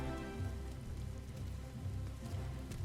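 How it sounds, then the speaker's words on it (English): Pouring rain in the video game Final Fantasy XIV hisses steadily on surfaces, a dense continuous wash with a low rumbling undertone, unbroken throughout. "As it's pouring rain out here."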